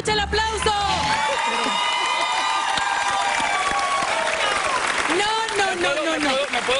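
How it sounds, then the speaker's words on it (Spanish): A studio audience on a television show applauds and cheers steadily throughout, with whoops mixed into the crowd noise and a host's voice talking over it. "Katherine Castro, que se escuche el aplauso."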